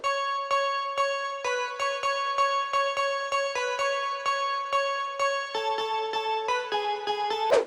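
A Nexus plugin synth plays a bright, bell-like pluck pattern for a future house intro, with steady repeated notes in a quick rhythm, a shift in pitch partway through, and a swelling wash at the end.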